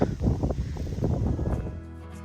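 Steady wind buffeting the microphone with a low rumbling roar that eases off toward the end.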